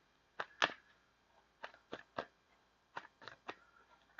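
A deck of tarot cards is shuffled close by: scattered sharp, crisp riffles and snaps come in uneven bursts against a quiet background, with no voices.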